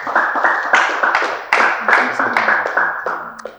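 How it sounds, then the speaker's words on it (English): Audience applause for contestants at an inter-school engineering quiz competition: steady crowd clapping with sharp individual hand claps standing out, close and fairly loud throughout. "clap for them"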